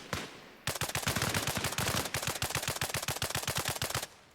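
Automatic gunfire crackles in a video game, with a rapid, loud, evenly spaced burst that runs for several seconds and then cuts off abruptly.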